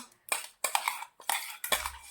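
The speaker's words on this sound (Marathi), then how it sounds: "हे मिक्सरच्या भांड्यातील पूर्ण सारण आता ह्या प्लेटमध्ये काढून घेत आहे मी" A spoon clinks and scrapes against a steel mixer jar and plate in four quick bursts while a fenugreek filling is scooped out, close and sharp.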